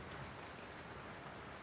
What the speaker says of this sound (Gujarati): તમને બતાવું વરસાદ કેટલો વરસાદ ચાલુ છે.